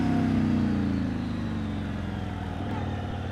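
A Yamaha MT-01 SP motorcycle engine accelerating out of a corner drones loudly and steadily nearby, its low pitch sliding downward early on before settling into a constant hum.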